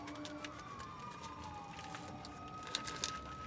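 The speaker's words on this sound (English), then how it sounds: "It's a siren-equipped vehicle." A faint, distant emergency vehicle siren in Tennessee wails, its pitch sweeping slowly downward under a low background hum, with a couple of soft clicks near the end.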